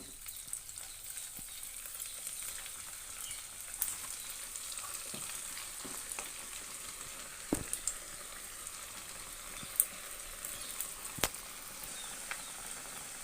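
Poha vadas crackle and sizzle in hot oil over a medium flame, a soft steady frying hiss with occasional sharper pops, fairly faint and with no talking.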